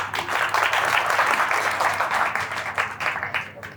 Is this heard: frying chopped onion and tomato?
no